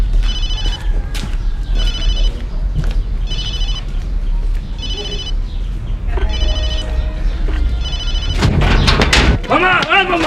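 An old-style telephone bell rings in repeated bursts of trilling, fairly loud, over a steady room hum, with a sharp thump and a voice calling out toward the end.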